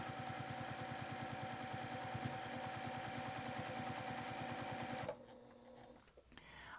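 A sewing machine runs fast and steadily while stitching binding onto a quilt, a rapid even mechanical whir with a regular needle rhythm that stops abruptly after about five seconds, leaving quiet handling sounds.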